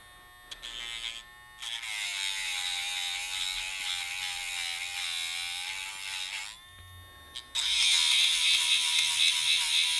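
An electric dog nail file with an LED light grinds a dog's nails, giving a steady, close buzzing whir that runs for several seconds, drops out briefly, then resumes louder.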